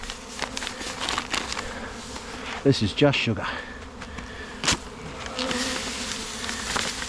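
Honey bees buzz around a weakened hive being fed sugar, a dense steady drone of many insects close by, with a few louder passes near the listener and a person speaking briefly over it.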